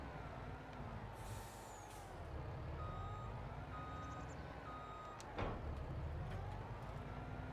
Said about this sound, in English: Let's get the truck up to the field.